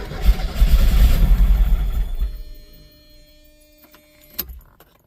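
A rebuilt 1982 Porsche 924 Turbo engine starts for the first time and runs loud and rough for about two seconds, then dies away to quiet ticking, a metallic clatter and faint rattles.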